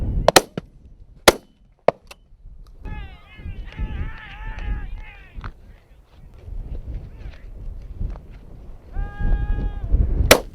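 A shotgun volley at grouse on Farndale Moor in wind: several sharp cracking shots ring out near the start, followed by scattered bleating animal calls and rustling outdoor noise.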